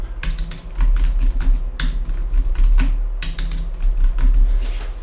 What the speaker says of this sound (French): Voilà, et je peux taper